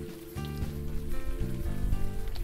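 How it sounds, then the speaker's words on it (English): Rain falls steadily on city streets in Brooklyn in the adventure game Unavowed, a constant patter running under a low musical drone, with no talk. "You're walking the streets in the rain"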